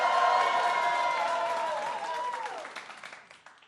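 An audience cheers and whoops for a contestant, loud shrill whoops and shouts over clapping that peak at once, then thin out and fade to scattered applause.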